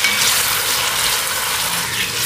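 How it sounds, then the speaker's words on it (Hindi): Tomatoes and onions frying in ghee, a loud, close, continuous sizzle with a bright hissing texture and no voices. "टमाटरों को भी 2 मिनट हमने फ्राई कर लिया है घी के अंदर"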